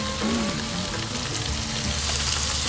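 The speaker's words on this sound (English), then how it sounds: "you can see the way the oil moves around means that pan is ripping hot. Just drop these in there." Steaks hitting a ripping hot oiled pan in a backyard cooking setting, giving a steady, loud broadband sizzle that holds evenly throughout, with no talk over it.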